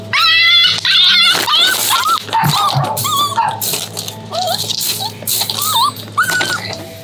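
Frightened puppies raised outdoors and afraid of people whimper and yip in a rapid string of high, rising and falling cries, loud and close, overlapping one another over a low steady background hum.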